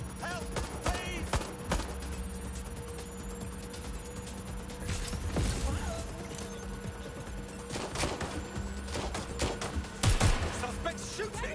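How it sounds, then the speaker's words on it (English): Scattered gunfire in Watch Dogs Legion, sharp cracks and short volleys popping at a moderate distance over a noisy, busy background, with voices calling out in between. "Suspects shooting!"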